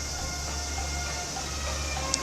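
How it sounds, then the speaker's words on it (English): Tourist road cars built to look like trains passing near Osaka Castle, heard as a steady rumbling wash with hiss, constant and outdoors with no clear approach or departure. "Let's go spy on these trains."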